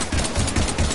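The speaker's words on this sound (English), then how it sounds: "Shoot him!" Rapid gunfire in the Mass Effect video game against husks, several bursts rolling steadily through one second at a loud, close level with no talk over it.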